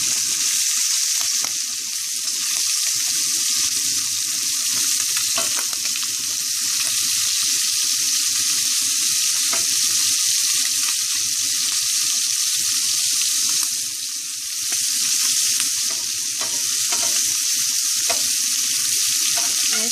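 Seafood and steak fry in a pan with a loud, continuous sizzle, broken by a few brief dips and light scraping as pieces are turned.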